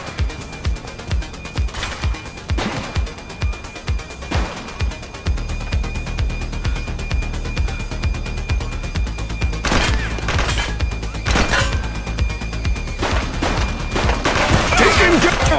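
Gunfire from The Precinct video game, a police game, with bursts of shots, crashes and booms over a steady low background drone. Intensity builds toward the end.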